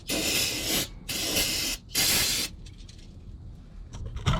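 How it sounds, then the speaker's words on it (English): A spray nozzle hisses in three strong bursts while washing down the engine bay of a 1972 Dodge D100 pickup, followed by quieter dripping and faint handling noises. "let's spray all this stuff down"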